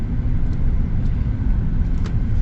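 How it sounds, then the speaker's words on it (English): Steady low road roar and tire hum inside a lifted GMC Sierra 1500 pickup running mud-terrain tires, a continuous even drone at moderate level with no talk. "tire noise isn't bad either"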